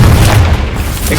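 A Confringo blasting spell detonates in a Harry Potter video game, a loud, dense boom with a heavy low rumble that holds steady for just over a second with no break.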